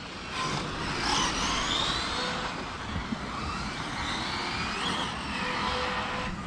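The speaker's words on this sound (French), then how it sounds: "Ah, que c'est beau le moteur à caractère." A Hobao VTe2 1/7 electric buggy with a Castle Creations 1520 1650KV motor on 6S power drives outdoors, its whining motor rising and falling steadily as it passes, with no one talking.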